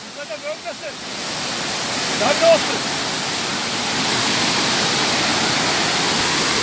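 The Kapuzbaşı waterfalls in Yahyalı, Kayseri, roar with a loud, continuous rush of water that fills the scene, while a few short voice fragments are heard faintly near the start.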